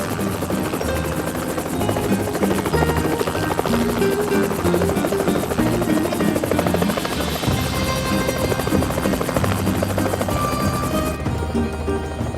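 A helicopter's rotor thumps and engine whine fill the air continuously, loud and close, with no voices.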